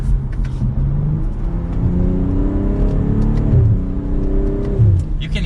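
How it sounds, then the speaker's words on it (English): A 2022 BMW M440i xDrive Gran Coupe engine in sport mode revs up and down with a throaty exhaust note, and a few sharp pops and crackles burst out as it lets off. "You can hear some pops in that exhaust too."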